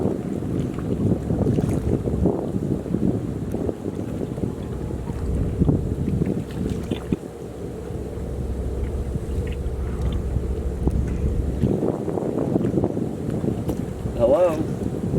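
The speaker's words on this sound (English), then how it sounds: "It's kind of windy here. It's hard to hear" Strong gusting wind buffets a microphone outdoors in a rainforest during a bike camping trip, a steady low roaring rumble that swells and dips throughout with no one speaking.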